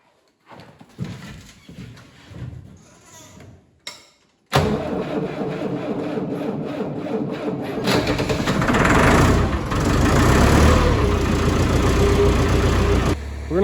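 Cold diesel engine on a ranch on a freezing winter day, run on winter-blend fuel with starting fluid, cranks after a few quiet knocks and catches into a loud, steady running roar that swells and holds close by.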